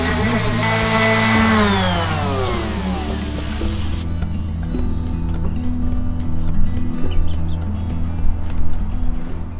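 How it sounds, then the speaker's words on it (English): An orbital sander smooths the edges of an outdoor wooden workbench: a steady motor whine rises and shifts over the first few seconds, then settles into a continuous close buzzing hum with rough scraping texture. "I just got my orbital sander just to give it a quick little once over, clean up these edges a little bit more"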